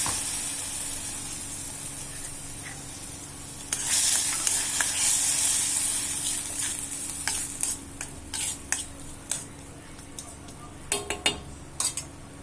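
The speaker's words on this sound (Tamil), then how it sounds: "நான் இதில் சின்ன தக்காளி 2 போட்டிருக்கேன். இதை போட்டு வதக்கிக்கணும்." Two small tomatoes sauté in a pan, a soft hiss that swells into louder sizzling, followed by scattered clinks and scrapes of a utensil stirring against the metal, heard close with no talking.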